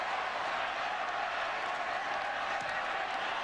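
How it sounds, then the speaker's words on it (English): Large college football stadium crowd roaring steadily after a touchdown, a broad distant wash of cheering and clapping that stays constant throughout, with faint voices underneath. "This crowd was already loud, but they're getting louder"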